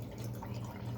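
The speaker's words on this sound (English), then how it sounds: "We're pouring the tea as well." Tea is poured into a cup in a home kitchen, a soft steady trickle of liquid over a low background hum, with no voices.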